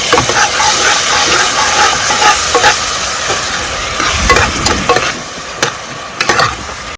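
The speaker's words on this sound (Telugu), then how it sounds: "తర్వాత మనం కట్ చేసుకున్న టమాటాలు ఇందులో యాడ్ చేయాలి. ఒకసారి ఇలా కలుపుకోవాలి." Chopped tomatoes stirred into a curry base in a hot pan, giving a steady close sizzle with scraping, clacking spoon strokes against the pan throughout.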